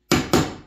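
A chisel is tapped twice in quick succession while chiseling out a wood joint; the two sharp, close strikes ring briefly and decay.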